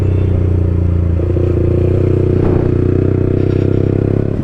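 A Yamaha R15 V4 motorcycle fitted with an Akrapovic exhaust rides along a road, its engine a steady, loud, close drone with continuous rumble and a brief swell midway.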